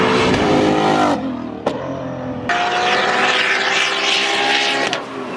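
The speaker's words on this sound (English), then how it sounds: "Listen to this Mustang." Ford Mustang race car at a Mid-Ohio track day, its engine roaring loudly past with sharp gear-change breaks and a rising, then fading whine, heard close from trackside.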